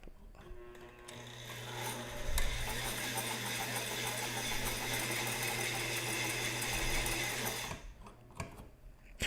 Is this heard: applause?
no